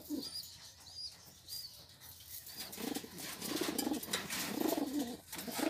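Pigeons coo repeatedly at close range while being fed, with soft chirps and rustling in the first seconds and louder, overlapping low coos and wing or body shuffles building through the rest.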